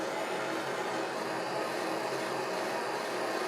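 A gas torch heats a gallium-filled padlock with a steady, loud roaring hiss that holds constant without breaks or talk.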